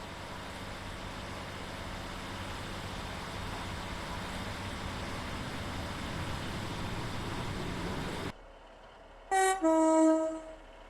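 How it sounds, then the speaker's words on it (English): Roblox SCR Class 156 train: a steady diesel engine drone runs for about eight seconds, then cuts out, followed by two short, loud, tonal horn blasts. "has its own engine and horn sounds that sounds like this"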